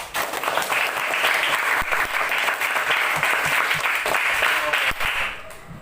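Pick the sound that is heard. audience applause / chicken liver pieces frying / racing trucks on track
audience applause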